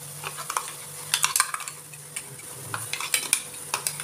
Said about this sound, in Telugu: 3 లేదా 4 నిమిషాల పాటు చిన్న మంట పైన ఈ మసాలాను అయితే ఉడికించుకోవాలి.